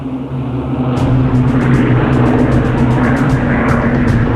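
WWII bomber propeller engines drone in a loud, steady, close roar with a deep throbbing hum that continues without a break, and a faint rapid ticking sits above it partway through.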